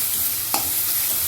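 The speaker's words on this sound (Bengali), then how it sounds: "গ্যাসের ফ্লেমটা আস্তে দিয়ে মশলাগুলোকে কষে নেব।" Spices being stirred and fried over a low gas flame in a pan for Bengali doi katla (fish in yogurt curry), giving a steady close sizzle with a brief scrape of the spoon partway through.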